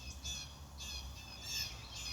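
Birds squawk outdoors around a backyard garden where bean seedlings are being transplanted into a grow bag. Repeated harsh calls come from a moderate distance over a steady low outdoor rumble, with no talk.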